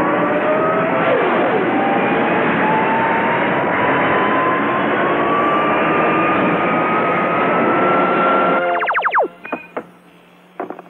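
Spaceship engines start with a loud, steady roar and rising whine that builds for several seconds, then cut off into a few quick descending electronic chirps in a cartoon.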